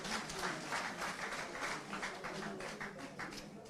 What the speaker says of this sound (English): Please, let's acknowledge them with a round of applause.